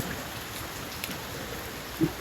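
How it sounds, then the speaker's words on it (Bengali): Rain falls steadily outdoors as a soft, even hiss of drops on surfaces, with a couple of slightly louder patters standing out against the wash. "এই যে আছে বৃষ্টির অবস্থা"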